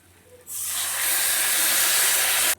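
Water hits a hot pan of spiced, fried pointed gourd and bursts into a loud, steady steam hiss that starts suddenly and holds for about two seconds, close and alone.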